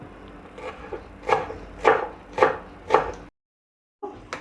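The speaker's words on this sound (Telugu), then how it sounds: "ఇప్పుడు కొత్తిమీర కూడా కట్ చేసుకుంటున్నాం" A knife chops fresh coriander leaves on a wooden cutting board, giving four evenly spaced, fairly loud chops after a few softer cuts. The board then falls silent briefly before one more cut starts near the end.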